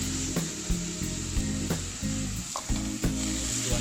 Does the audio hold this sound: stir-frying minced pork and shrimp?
yes